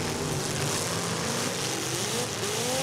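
A pro stock race car engine screams on the rev limiter during a qualifying heat. The loud, dense roar is steady and unbroken, with no talk.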